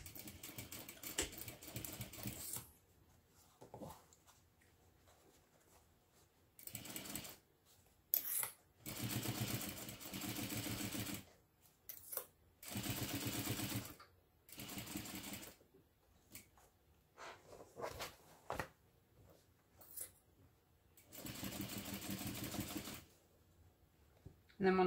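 A sewing machine stitches seams at a medium stitch length in short and longer bursts, a rapid close mechanical chatter that starts and stops repeatedly with quiet pauses between runs.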